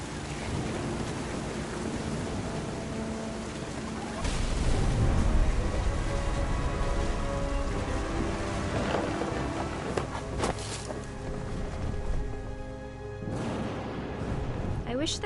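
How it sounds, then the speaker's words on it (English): Thunder and rain in the What Remains of Edith Finch video game: steady rainfall with booming thunder rolls, heavier around the middle, under narration and background music. "The thunder sounded much too close and full of angry power"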